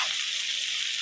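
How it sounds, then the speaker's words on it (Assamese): Spring onion frying in a hot pan gives a steady, close sizzle and crackle throughout, with no voices. "কেঁচা পিঁয়াজখন দি দিলোঁ। দি পেলাই ভাজি ল'ম অকণমান।"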